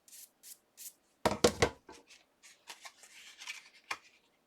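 Scissors snipping out die-cut paper shapes, a run of short close crisp cuts with soft paper rustling and handling noises between them.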